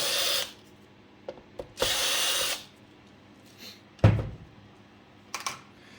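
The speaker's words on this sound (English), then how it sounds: "I'm just going to literally unscrew the main plate and pull this to one side" A Technics SL-1210MK2 turntable's main plate being unscrewed: two short, close bursts of a whirring power screwdriver, separated by quiet gaps with small clicks, a sharp knock, and faint handling noises.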